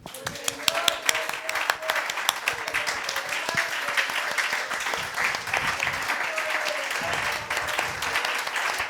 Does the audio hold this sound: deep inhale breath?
no